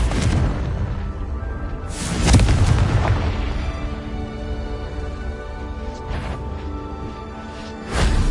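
A Confringo blasting spell explodes in Hogwarts Legacy, a loud booming burst with a rumbling tail, followed by smaller crashes and a second blast near the end.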